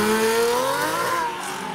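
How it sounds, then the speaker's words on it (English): An Aston Martin DBS Superleggera accelerates away from a car show, its engine rising in pitch as it revs up close and loud, then easing slightly as it pulls off. "There goes the DBS."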